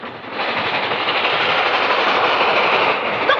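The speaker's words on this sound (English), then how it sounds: "It's a train." A train rolls past in a 1938 film set in Chicago prairie country, a loud continuous rumble with a faint rhythmic clickety-clack of the railroad cars, steady throughout with no talk.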